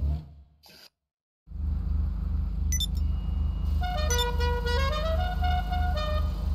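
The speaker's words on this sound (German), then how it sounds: "Kommt dir irgendwie bekannt vor, Hupe, oder?" A car horn in GTA V blares in a sustained, wavering honk over a steady engine drone, following a brief drop to silence.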